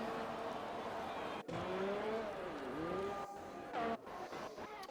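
A GP3 race car laps Monza during the Italian Grand Prix weekend, with a continuous high engine whine that rises and falls through gear changes and corners. It stays faint and steady, with an abrupt cut or two.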